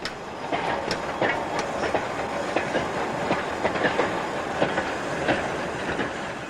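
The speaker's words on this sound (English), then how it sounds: "The six-wheeled 3F was a common sight on local lines, like this one that meandered through Nottinghamshire's coalfields." A freight train on a local line through the Nottinghamshire coalfields, hauled by a six-wheeled 3F steam locomotive, rolls past with steady clickety-clack of wheels over rail joints and a constant rumbling roar.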